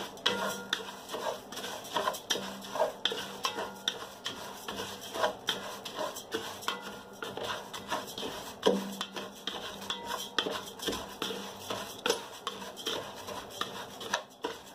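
Olive oil and risotto rice being stirred and toasted in a pan, a continuous scraping and rubbing with frequent spoon-on-pan clinks, steady and close throughout.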